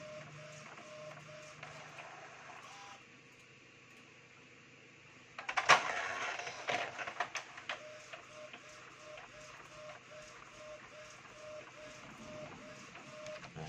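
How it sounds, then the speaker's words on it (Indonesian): Epson L310 inkjet printer loaded with dye ink printing shipping labels, a quiet steady mechanical hum with a louder burst of paper feed and rattling partway through, then the print head shuttling back and forth. "print tanda-tanda buat pengiriman"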